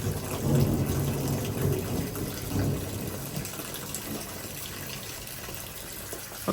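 A severe thunderstorm with heavy downpours pours steady rain while low thunder rumbles, loudest early on, then a constant wash of rain continues with no talking.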